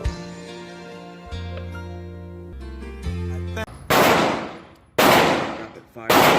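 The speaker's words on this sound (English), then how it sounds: "Rapid fire." Rapid bursts of gunfire at an outdoor shooting range, three loud cracks in quick succession with ringing decay, preceded by sustained tonal humming.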